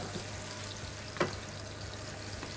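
Tomato paste fries in a pan while a spoon presses it down, giving a soft steady sizzle with one brief scrape or clack near the middle.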